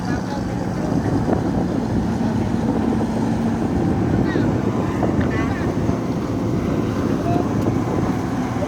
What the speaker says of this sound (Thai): ดูครับลมครับนี่ลมหนาวเข้ามาแล้วครับ